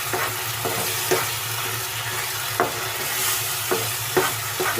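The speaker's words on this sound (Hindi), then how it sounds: "अब हम इसमें डाल देंगे हरी मिर्चें और इसे भून लेते हैं।" Beef keema frying with green chillies over medium heat hisses steadily while a spoon scrapes the pan in regular strokes about once a second, close up and with no talking.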